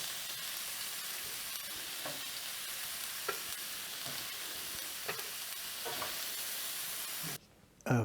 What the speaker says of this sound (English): they've had a good minute to a minute and a half on each side searing